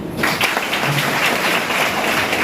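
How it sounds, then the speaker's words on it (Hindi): Audience applause at a business training session on markets, a dense steady clapping that fills the whole moment at close range with no voices over it. "ताली होना चाहिए।"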